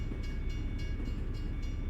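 A short freight train rolls past a rail crossing in American Truck Simulator, a steady low rumble of wagons with faint rhythmic clatter and no talk over it.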